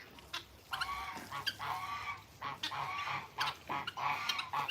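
Geese honk repeatedly in bursts at an animal sanctuary, several birds calling back and forth at moderate distance with brief pauses between the honks.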